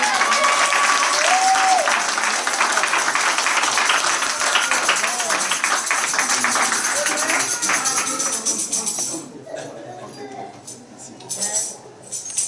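Church congregation applauding during a French-language prayer and deliverance service, a dense sustained wash of clapping with crowd noise and voices mixed in, thinning out toward the end.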